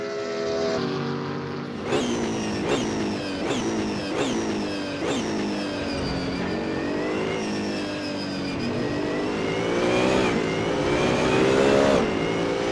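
Race car engine at a race start, revving hard through a quick series of gear changes, each shift marked by a dip and a rising whine, then holding a loud sustained howl as more cars join.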